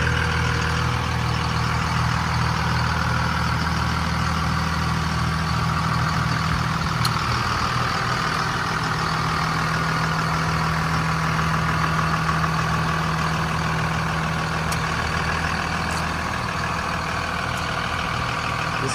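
A 2001 Dodge Ram 3500 dually with the 5.9L Cummins diesel and six-speed sits idling, a steady low rumble and clatter holding evenly throughout with no talk.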